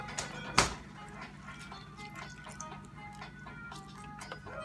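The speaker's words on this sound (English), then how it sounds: "And I'm going to put a little more milk in there too" Milk poured into a pot of mashed potatoes gives a short splash, then soft wet dripping and squishing sounds close by, with no talking.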